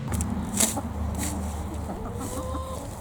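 Chickens clucking steadily close by, with a few louder squawks standing out over a constant low background hum.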